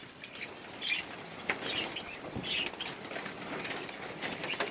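Royal pigeons flap their wings in a loft in several short bursts of fluttering, close by, with soft bird calls and no talking.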